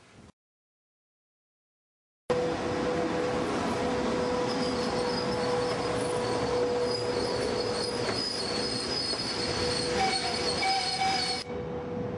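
A VL40 electric locomotive with a passenger train runs steadily on rails with a continuous rumble and a sustained metallic whine and squeal, loud and close, after a brief silent start.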